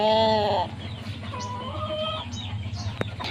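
Fighting gamecocks are kept together in a yard. One rooster gives a short, loud crow, followed by scattered clucks and low calls over a steady background hum.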